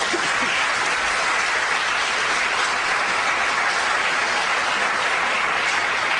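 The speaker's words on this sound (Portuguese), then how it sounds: "Aplauda ao Senhor." Sustained applause from a church congregation, a steady broadband clatter of many hands filling the space evenly throughout with no voices standing out.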